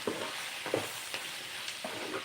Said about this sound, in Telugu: జస్ట్ అలా సిమ్లో కొంచెం సేపు ఫ్రై అవ్వనిస్తే